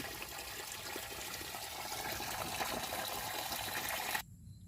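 Water pours and gushes steadily at a fish pond, a close, continuous rushing flow that is abruptly shut off near the end, leaving only quiet.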